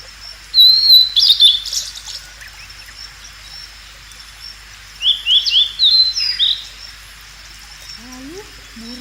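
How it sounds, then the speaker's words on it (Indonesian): Bird calls standing in for a dove released from the ark: two bursts of high chirping tweets, fairly close, separated by a quiet gap, with a faint rising whistle near the end. "Lalu Nuh melepaskan seekor burung merpati."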